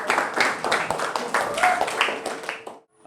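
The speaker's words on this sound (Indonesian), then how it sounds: "Tepuk tangan untuk kita semua." Classroom group clapping in a rhythmic pattern, bursts of hand claps mixed with voices of students and a teacher, fairly close and lively, ending in a brief pause.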